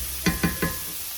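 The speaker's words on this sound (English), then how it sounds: "we're gonna mix this all together with our asparagus" Three quick scrapes of a spoon stirring sauce with asparagus in a pan, soft and close over a faint steady sizzle.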